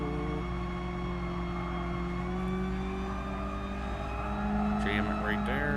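A Mazda Roadster at full throttle in Gran Turismo Sport gives a steady, droning engine tone with sustained harmonics, sitting moderately loud under a continuous mix. Late on, pitch sweeps rise briefly.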